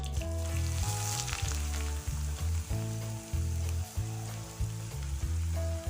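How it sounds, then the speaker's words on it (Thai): Thai herbs frying in boiling oil before birds are fried, a steady loud sizzle and crackle with bubbling pulses, alone without voices. "นน้ำมันเดือดแล้วนะครับผม นี่ ครับ เราสมุนไพรลงก่อนเลยพี่น้อง"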